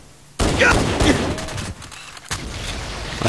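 Loud, close gunfire from the video game Halo CE, a rapid burst of shots that cuts off abruptly and then resumes, with some muffled game voices.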